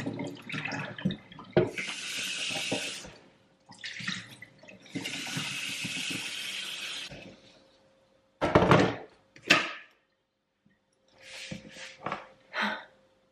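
Tap water runs from a kitchen faucet to fill a kettle for herbal tea, coming in two long steady bursts with short clunks and knocks between and after them, nobody speaking.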